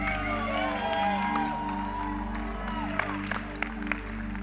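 A church audience at a college preachers night applauds and cheers for a speaker coming on stage, with dense steady clapping and a few whoops over a low sustained musical hum, some sharper claps near the end.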